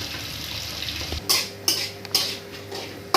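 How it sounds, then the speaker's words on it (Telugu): Onions and green chilies fry in oil for a prawn curry, a steady sizzle beneath four sharp clinks of a spoon scraping and stirring against the metal pan, close and without talking. "ఉల్లిపాయలు పచ్చిమిరపకాయలు బాగా దోరగా ఏగే వరకు, పచ్చివాసన అయ్యి బాగా మగ్గే వరకు వేపుకుందామండి."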